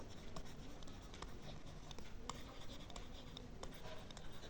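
A pen scratches steadily across paper while a Class 9 maths number-system problem is worked out, with soft continuous strokes and small taps heard close and quiet.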